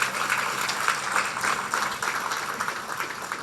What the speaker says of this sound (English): give a round of applause to our sponsor of the day, Crazy Store